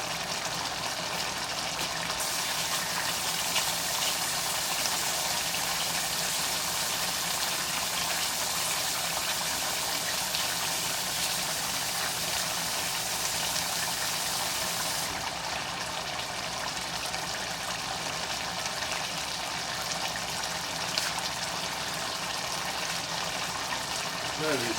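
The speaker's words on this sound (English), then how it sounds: "Now first I'm going to rinse this." Running water rinsing food at a kitchen sink, a steady broadband hiss and splash that continues loudly throughout with little change, a brief shift in the spray partway through.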